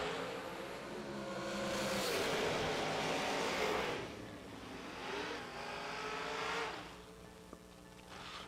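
A dragster makes a drag racing run with Glenn Dilday driving, a loud sustained engine roar that swells and fades across the pass and carries on without speech.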